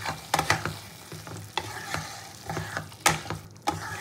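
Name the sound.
mutton fat frying and stirring with liver and potato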